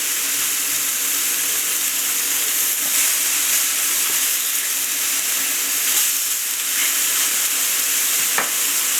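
Shortcake browns in a frying pan, giving a steady, close crackling sizzle with faint stirring clicks and no voices.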